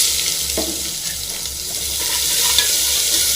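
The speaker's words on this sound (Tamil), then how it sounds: "வெங்காயம் நல்லா ஃப்ரை ஆகட்டும்" Onions frying in a pan with green and dried red chillies, a steady close sizzle with occasional stirring scrapes, with no talking.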